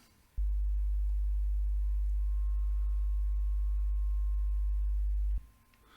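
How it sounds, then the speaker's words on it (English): A pure analog test tone generated in Audacity software holds one steady pitch for about five seconds, starting and stopping abruptly, loud and alone over faint background hiss. "how to generate analog test tones on your computer using free software, Audacity in this case"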